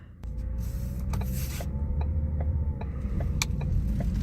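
A 2017 Ford Focus SE pulls away in drive, giving a steady low engine and road hum under faint cabin clicks and rattles, close and fairly quiet throughout.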